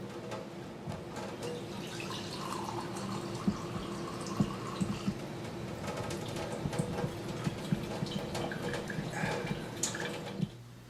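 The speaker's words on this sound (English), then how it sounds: "Once a full stream comes out of the filter system," Steady stream of water running from a countertop drinking-water filter system with a sediment pre-filter and diverter, a continuous close rushing and trickling sound with small drips throughout, no talking.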